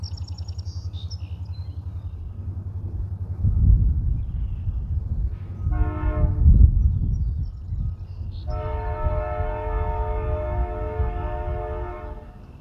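Freight train K66 rolls through open fields on Illinois Railway trackage at low speed, a steady low rumble of railcars building as the horn sounds in two loud sustained blasts, the second long and strong near the end.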